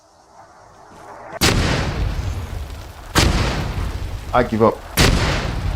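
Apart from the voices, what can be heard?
mortar fire in video game Arma 3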